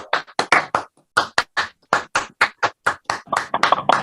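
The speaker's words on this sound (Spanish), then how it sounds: "Habiliten los audios y aplaudan." An online audience claps after an astronomy talk, with participants unmuted. Separate, uneven claps from a few people come close and crisp, about twenty in quick bursts with brief pauses.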